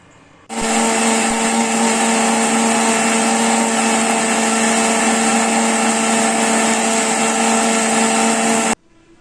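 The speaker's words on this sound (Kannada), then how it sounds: "ಸ್ವಲ್ಪ ನೀರು ಹಾಕ್ಕೊಂಡು ಮಿಕ್ಸಿಗೆ ರುಬ್ಬಕ್ಕೆ ಹಾಕ್ಕೊಳ್ಳೋಣ" A kitchen mixer grinder runs steadily, grinding spices with a little water into a paste for vegetable pulao, a loud continuous whirring motor with a bright whine that starts abruptly and stops cleanly, with no voices.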